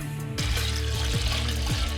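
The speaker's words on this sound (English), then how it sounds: "I'm gonna fill it up with water, make sure there ain't no leaks" Water pours steadily into the cooling system of a big-block Ford 460 V8, a continuous close splashing fill with gurgling pulses as the level rises.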